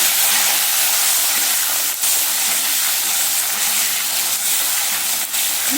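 Potatoes coated in salt and turmeric fry in oil with a loud, constant hissing sizzle, briefly dipping a couple of times.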